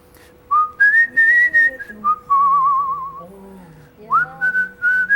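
A man whistles in imitation of birdsong, close and loud, with sliding and warbling tones in short repeated phrases separated by brief pauses.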